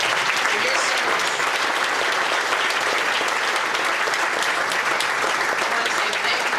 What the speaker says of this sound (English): let's give Mr. Salsa a round of applause for your service